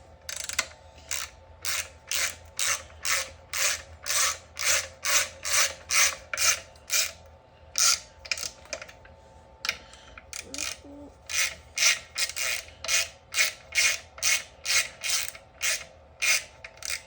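Ratchet wrench tightening a bolt during a Tuttio upgrade kit install: a steady run of quick, evenly spaced clicking strokes, close and clear, with a brief pause partway through.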